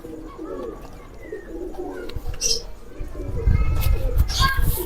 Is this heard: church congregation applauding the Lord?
no